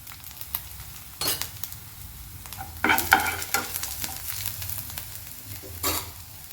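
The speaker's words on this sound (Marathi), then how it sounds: "बारीक केलेली मिरची आणि लसण. 1 मिनिटभर परतून घेऊ." Chopped chillies and garlic frying in a pan with turmeric, a steady soft sizzle under repeated scrapes and stirs of a spoon, with sharper clattering around the middle.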